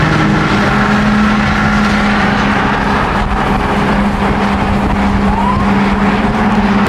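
A Nissan R35 GT-R with a flame tune rumbles loudly and steadily nearby for the whole stretch, its engine and exhaust drone holding a constant low hum with rough bursts across the top.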